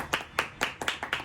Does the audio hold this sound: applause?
yes